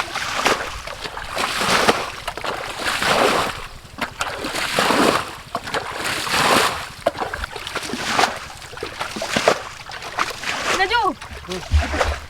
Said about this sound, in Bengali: দেখা যাক, এখন জলটা আছে না, জলটা ছেঁচো ছেঁচো।